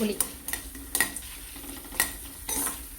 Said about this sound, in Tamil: புளியை போட்டு லேசாக வறுத்துப்போம்.